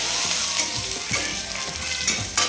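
Potatoes fry in a pan of hot oil while cooking a fish curry with eggplant. They give a loud, close, continuous sizzle with occasional stirring scrapes and clatters.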